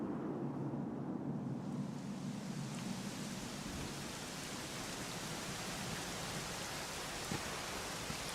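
Steady rain falling in the video game Dragon Quest XI S, a soft continuous hiss with a faint low rumble, even and unbroken throughout.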